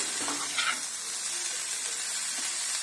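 Par-boiled cauliflower florets frying uncovered in a pan for a restaurant-style coconut gobi fry, a steady close sizzle with brief scraping stirs near the start.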